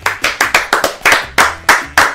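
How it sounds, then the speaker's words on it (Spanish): Hands clap in a quick, sharp burst of about a dozen claps, slightly uneven in rhythm, close and loud, with no talking over them. The sound is more like a small group or single clapper than a large crowd. "¡Un aplauso!"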